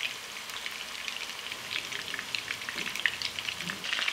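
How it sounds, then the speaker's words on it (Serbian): Meatballs (ćuftice) frying in a pan give a steady, close sizzle with crackling and spitting pops throughout, no talking. "I ćuftice sad ovako pržimo sa obe strane po 3-4 minuta."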